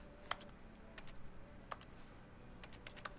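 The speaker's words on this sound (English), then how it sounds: "and I hear clicking noises" Sparse mouse or keyboard clicks in the video game The Stanley Parable: Ultra Deluxe, a few sharp, light clicks spaced irregularly over a quiet room-tone background, with no voices.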